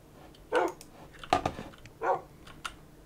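Three short Minecraft dog barks, high-pitched like a puppy, spaced apart, with faint clicking between them.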